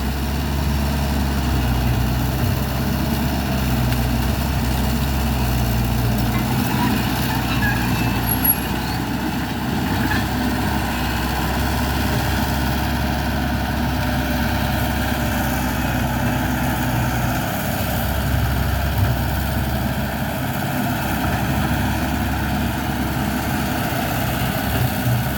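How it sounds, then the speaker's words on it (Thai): A CAT 312D excavator's engine runs steadily while clearing a large bamboo clump, a loud, continuous low diesel drone with a broad mechanical roar that holds unbroken throughout. "ให้รถแมคโคร เกียร์ อุ้มไผ่ออกก่อนครับ"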